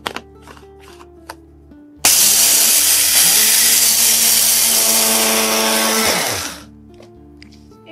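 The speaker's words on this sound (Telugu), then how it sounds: "సో ఇలా మనం మిక్సీ జార్లో వేసేసి దీన్ని పౌడర్ ఫామ్లో ప్రిపేర్ చేసేద్దాము" A mixer grinder jar whirs loudly, pulverising roasted barley into powder, starting abruptly after quiet and running steadily for about four seconds before winding down.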